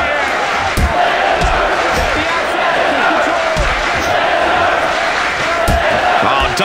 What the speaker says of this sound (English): The crowd showing their support for Brock Lesnar.